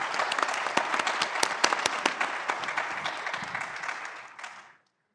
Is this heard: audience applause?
yes